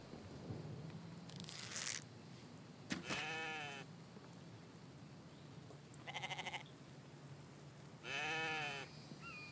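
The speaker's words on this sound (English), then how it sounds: "Oh, look at that. There's a goat." Goat bleats in the survival video game The Infected. Several wavering, nasal calls come a few seconds apart, each under a second or two long, over faint game ambience. A soft rustle sits between the calls.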